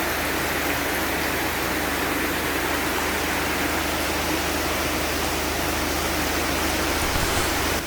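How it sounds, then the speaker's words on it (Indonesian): Rushing water from heavy rain pours in a steady, loud, unbroken wash that fills the whole stretch with dense hiss and low rumble, no voices over it. "Di sebelah kiri itu kita lihat bagaimana air mengalir dengan deras"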